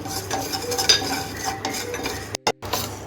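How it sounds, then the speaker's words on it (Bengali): Whole spices being dry-roasted in a pan for jolpoi (Indian olive) chutney, with a steady scraping and clinking of a utensil against the metal pan, a brief cut near the end, no talk. "তার জন্য আমি মশলাগুলো একটু ভেজে নিচ্ছি"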